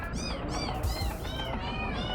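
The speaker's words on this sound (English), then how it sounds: "Oh, it is crazy cat noise." Cat meows from a cat keyboard in the video game Psycho Patrol R: a rapid string of synthetic, high meows, loud and steady over a busy game soundtrack.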